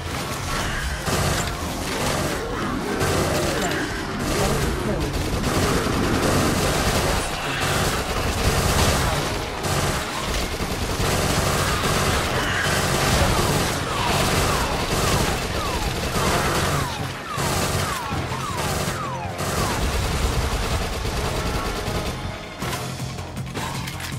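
Rapid submachine-gun fire from the top-down zombie shooter Dead Nation, dense bursts layered with booms, crashes and mechanical clatter in a loud, continuous game mix with no letup.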